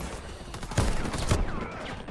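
Rapid bursts of M14 Crazy Horse rifle fire in the Warface shooter game on Nintendo Switch, with two sharper loud shots standing out amid a continuous clatter of gunfire.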